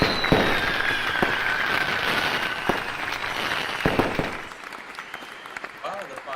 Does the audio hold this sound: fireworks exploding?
yes